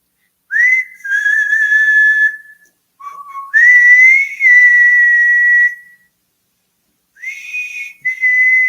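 A person whistles several sustained, wavering notes in separate phrases with short pauses between them, close and clear with no other sound.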